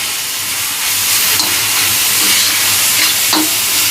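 Onion frying in a pan gives a loud, steady, close sizzle and hiss, with occasional stirring scrapes and no talking.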